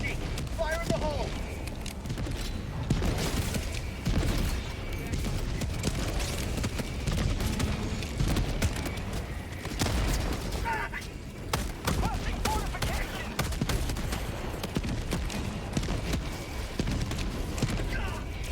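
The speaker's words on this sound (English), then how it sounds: "there's so many goddamn explosions happening" Dense explosions and gunfire fill a chaotic Helldivers 2 battle, with continuous booming and rapid shots layered thickly under frequent talk.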